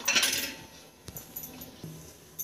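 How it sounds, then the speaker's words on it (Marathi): A lid set onto a pressure cooker pot of leafy greens in a home kitchen, giving a bright metallic clatter at first, then a few light clinks and taps against the rim, close and fairly quiet. "झाकण लावून घेऊया."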